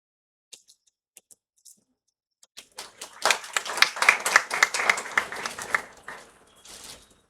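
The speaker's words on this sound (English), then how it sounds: "give a warm round of applause to all our esteemed dignitaries" Audience applause at the valedictory programme of a one-day national workshop, starting with a few scattered claps, then swelling into a dense burst of clapping that fades out near the end.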